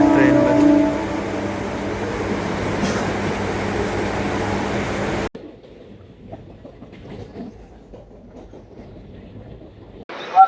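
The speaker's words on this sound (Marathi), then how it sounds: "ट्रेन आलेली आहे, जाऊया" A local commuter train riding toward Ghansoli station gives a loud, steady rumble with rattling carriages for about five seconds, then cuts abruptly to a quieter murmur of movement with a brief knock at the end.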